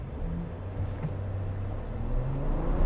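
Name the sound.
2020 Ram 1500 EcoDiesel truck accelerating from brake torque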